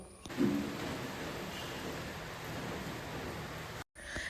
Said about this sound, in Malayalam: പിന്നെ പുറത്ത് ചെറുതായിട്ട് മഴ ചാറുന്നുണ്ട്